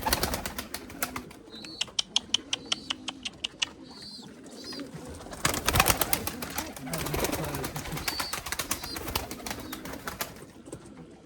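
Pigeons, quality lemon-colored breeding birds, coo repeatedly in a loft amid sharp chirps and wing flutters; a voice talks intermittently beneath the birds.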